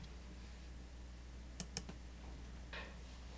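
Two quick, faint computer mouse clicks in close succession, pressing a Save button in statistical software, followed by a soft rustle against quiet room hum.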